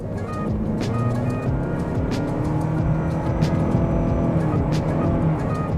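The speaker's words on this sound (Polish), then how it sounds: "Sprawdzimy teraz, jak samochód się zbiera." A Toyota Corolla Hybrid GR Sport running on LPG accelerates, its engine droning steadily with rising tones heard from inside the cabin, with a few faint ticks over the hum.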